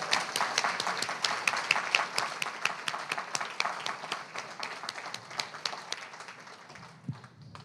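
An audience at a poetry reading gives a round of applause for poet Ilya Kaminsky, sharp, crisp claps from a modest crowd that stay lively at first and then thin and taper toward the end.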